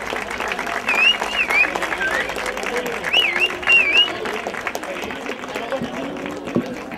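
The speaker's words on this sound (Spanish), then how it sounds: "fuerte aplauso para estos jóvenes atletas" Audience applause for young athletes at a San Silvestre race trophy ceremony, a sustained outdoor round of clapping with whistles and crowd chatter mixed in throughout.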